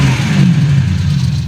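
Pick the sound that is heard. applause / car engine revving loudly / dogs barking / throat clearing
car engine revving loudly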